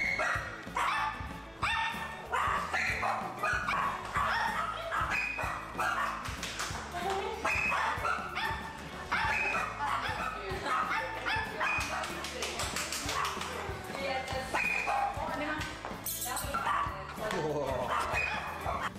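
An excited dog that has just received prostheses for its front legs barks, yips and whimpers in quick bursts, mixed with a voice and a busy, steady background.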